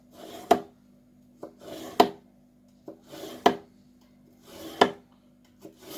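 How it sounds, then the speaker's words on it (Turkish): A knife slicing raw potatoes on a board: four sharp cuts spaced about every second and a half, with softer scrapes between, close by. "yemiş olduğunuz patatesleri önce bu şekilde dilimliyorlar mecburen"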